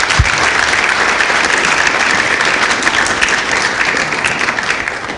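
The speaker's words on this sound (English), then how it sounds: "if we could get a round of applause for these gentlemen and ladies" Loud, sustained round of applause from the crowd at an open-source community annual general meeting, thick continuous clapping close by that eases slightly toward the end.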